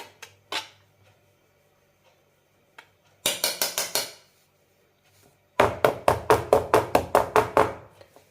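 Vanilla cake batter in a pan tapped down to release air bubbles before going on a griddle: a few scattered knocks, then two fast bursts of sharp metallic rapping, each of rapid, regular taps, close and loud.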